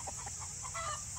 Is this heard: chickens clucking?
yes